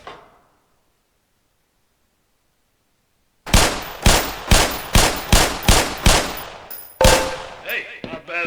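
Silence, then seven sharp pistol shots fired at targets on a shooting range in the Black Mesa video game, evenly spaced and loud with short decays, followed by a louder shot and mechanical clicks.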